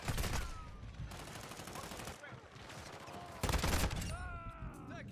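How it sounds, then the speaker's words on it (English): Bursts of automatic gunfire in Modern Warfare 2, rapid rattling volleys at close range, with one louder stretch near the end amid chirping game effects and battle noise. "my teammate was shooting somebody behind me"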